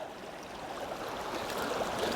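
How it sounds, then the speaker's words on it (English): Water drains out of a lifted King of the Kern sluice box, a steady, soft gushing and trickling that builds slightly in volume over a couple of seconds, with no talk. "Let the water run out."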